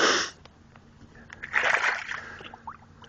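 Oil-fouled water along a spill site sloshes and splashes in uneven bursts, a sharp splash at the start and a longer watery churn midway, fairly close, with no speech.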